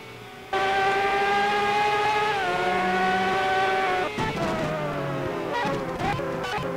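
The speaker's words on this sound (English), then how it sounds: "These braking sounds really good." Formula Brash racing game cars whine at high pitch, each engine note sliding lower as it slows under braking, with several cars overlapping and one passing close, no voices.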